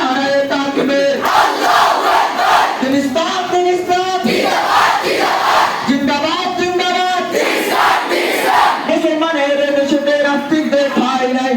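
A large crowd at a Bangladeshi madrasa student protest chants the Takbir slogan Allahu Akbar in unison, loud, sustained voices rising and falling in repeated sung phrases.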